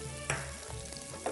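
Onions drop into hot oil already popping with mustard seeds in a home kitchen, setting off a loud, close, steady sizzle with a few stirring scrapes and bursts, no voices.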